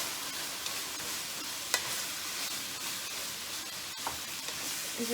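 Meat, carrots and onions sizzle steadily in a pan, a continuous close frying hiss with occasional stirring taps and clinks.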